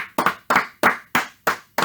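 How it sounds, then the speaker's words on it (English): A small group claps for a bowling league member at a power rankings show, in six sharp, evenly spaced bursts of clapping with a short decay between each. Close and loud, with no talk over it. "Let's give him a round of applause."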